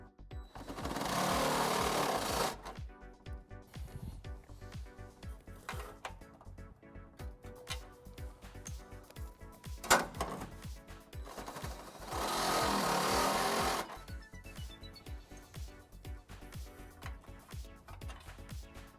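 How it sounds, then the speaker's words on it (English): A step drill bit enlarges a hole in the frame of a 2021-2024 Ford Bronco Sport. Two loud, sustained grinding bursts are separated by quieter ticking and handling noises. "we'll use a step bit to enlarge this hole"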